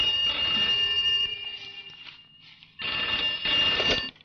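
A telephone bell rings in two bursts with a pause between, fairly close and clear, with a faint murmur beneath.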